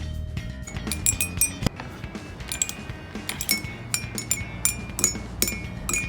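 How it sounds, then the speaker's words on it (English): Glasses holding different amounts of water are tapped in a quick, uneven run of bright ringing clinks, each with a clear sustained pitch that varies from glass to glass, close and moderately loud. "Tap on the glasses, listen carefully, and you can hear how the sounds have changed"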